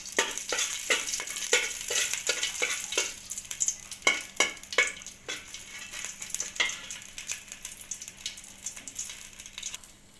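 Dry whole spices fry in hot ghee for zarda sweet rice, a steady close sizzle with rhythmic clinks and scrapes of a stirring spoon that ease off toward the end.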